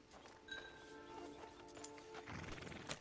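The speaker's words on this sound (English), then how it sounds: "Get on the horse when you're ready." A horse in Red Dead Redemption 2 gives a faint neigh and a few soft hoof clops amid quiet background ambience.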